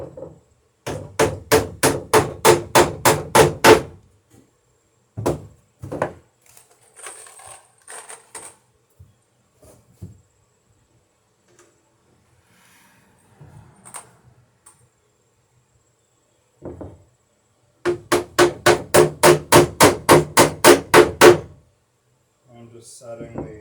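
Rivets on a wooden dory being hammered against a bucking iron: two bursts of rapid, evenly spaced sharp hammer blows, about a dozen each, separated by scattered single taps and quiet talk.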